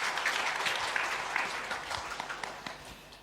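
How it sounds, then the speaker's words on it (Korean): A church congregation at a Sunday worship service applauds in encouragement, a moderate crowd of clapping hands that gradually thins out over a few seconds. "자, 우리 박수로 한번 더 격려하겠습니다."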